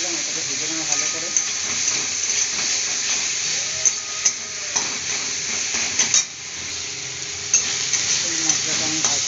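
Ginger, tomato and green chilli paste frying in a pan, a steady sizzle with occasional scraping and clinks of a spoon stirring against metal, close by and moderately loud, without talk.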